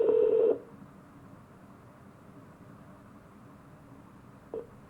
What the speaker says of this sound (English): I'm going to try and get Sasha on the phone.